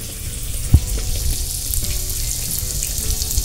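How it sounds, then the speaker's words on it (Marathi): Spicy urad dal vadas fry in hot oil with a steady, close bubbling sizzle, a soft bump as one lands early on, then an even crackle throughout without talk. "आणि आता हे वडे तळून घ्यायचे"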